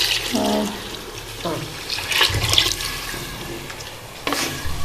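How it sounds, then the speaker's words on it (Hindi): Water poured into a pan of frying rice for zeera chawal, a rushing, gurgling pour with a sharp hiss as it hits the hot pan, ending in a louder splash near the end. "अब मैं इसमें पानी ऐड करूँगी।"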